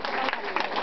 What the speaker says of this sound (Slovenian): No, potem pa en aplavz za spodbudo našemu prvemu tekmovalcu, Žan.